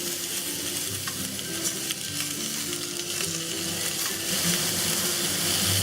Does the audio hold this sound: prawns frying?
yes